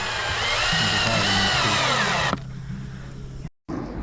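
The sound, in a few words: power drill driving screws into a fence board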